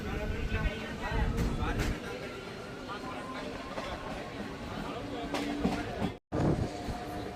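A MEMU passenger train rolls into Guddageri railway station in light rain, giving a steady rumble and clatter throughout with a brief cut near the end, while someone talks over it.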